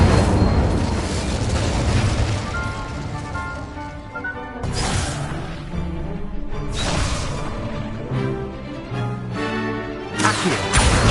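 Incendio fire spell blasts burst out during Hogwarts Legacy combat, several loud booming whooshes at uneven intervals among other spell effects and ongoing battle noise, no voices prominent.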